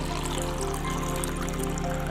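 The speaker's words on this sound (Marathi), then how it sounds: "माठातलं 1 तांब्या पाणी टाकून घेणार आहोत" Cold water from a clay pot pours steadily into a bowl, a continuous splashing trickle with an even level throughout.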